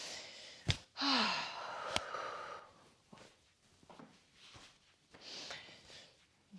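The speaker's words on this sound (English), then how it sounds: "take some big breaths, not necessarily choreographed with the movement, but just nice deep rounds of breath" Deep breathing during a yoga session: a sharp inhale followed by a long, audible exhale, then softer, quieter breaths drifting in and out nearby.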